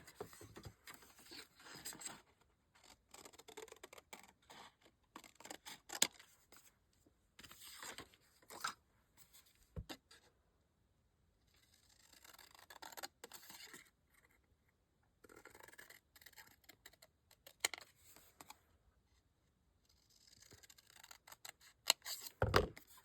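Scissors snip paper for a mini purse journal, giving repeated close crisp cuts in irregular clusters with quiet gaps and occasional rustling of paper.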